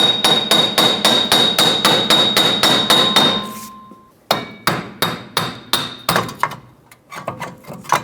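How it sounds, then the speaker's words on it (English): A fast run of ringing metal hammer taps on a stuck rear wheel hub bearing of a 2012-2018 Nissan Altima, then a short pause and more irregular strikes, loud and close, with no talking. "so it needs some help with a hammer"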